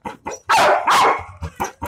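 A dog barks during an obedience training session: a few short, sharp barks, then two longer drawn-out loud barks, followed by more quick single barks, all close by with no talking.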